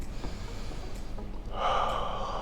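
A single deep, audible breath drawn in sharply, like a gasp or snort, swells in the second half after a quiet start, close and alone without talk.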